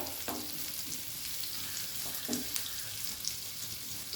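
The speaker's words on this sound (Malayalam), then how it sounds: "ഒരു 100 ഗ്രാം ബട്ടർ ഇട്ട് കൊടുക്കാം. ബട്ടർ ഉരുകട്ടെ." About 100 g of butter melts in a hot pan with a steady, soft sizzle and occasional faint pops and clicks, close by and with no voices.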